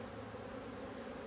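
Bees buzzing in front of a beehive as the inner top is knocked clear of them, a dense continuous hum close by and fairly soft.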